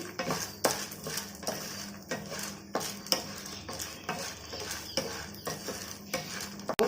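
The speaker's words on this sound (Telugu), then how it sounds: "మినపగుళ్ళు, పచ్చిపప్పు కొంచెం సేపు వేగాలండి." Urad dal and chana dal frying in a pan on low heat, stirred with a metal spatula that clinks and scrapes against the pan in a steady rhythm over a faint sizzle.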